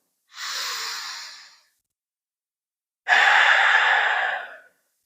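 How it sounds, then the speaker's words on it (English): A deep cleansing breath at the close of a beginner-to-intermediate vinyasa yoga practice: a soft, airy inhale, a pause, then a longer, fuller exhale. Both are close and clear against silence. "We'll end the practice with a deep cleansing breath in and out."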